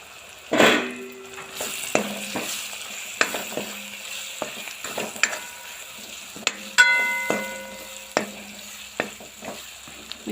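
Ground spices, coriander-cumin powder, garam masala and turmeric, roast in hot oil for a dal tadka, giving a low sizzle broken by sharp metallic clinks and scrapes of a spoon stirring the pan at irregular intervals.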